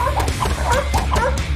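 A dog whimpers and yips in short repeated whines over steady background noise, with an animated cartoon-like scene around it.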